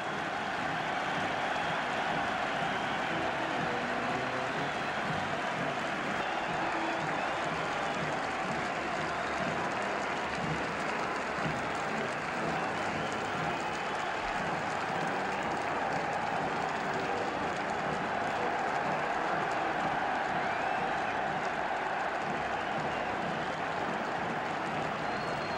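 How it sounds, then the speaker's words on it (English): A football crowd cheers for Aston Villa at Wembley during the 1971 League Cup Final, a dense, continuous roar of distant voices that holds at a steady level throughout. "Tremendous cheering for Aston Villa."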